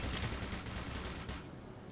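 Automated turrets firing in the Black Mesa video game, a dense rapid rattle of gunfire that is loud and continuous, then thins slightly near the end, with no voices.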